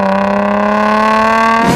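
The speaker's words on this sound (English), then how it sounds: "if you guys like the sound of the 350Z," A Nissan 350Z fitted with a Nismo cat-back exhaust and Burke high-flow catalytic converters drones loud and close, a steady deep tone rich in harmonics that shifts abruptly near the end as the engine note changes.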